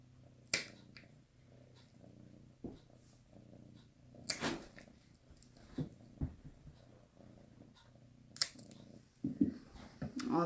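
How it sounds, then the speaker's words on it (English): Clipper snips while a cat's nails are trimmed: sharp isolated clicks at irregular intervals over a quiet, close room background, with a few soft rustles and no talking. "When you cut a cat's nails, you'll just want to take off the hooks"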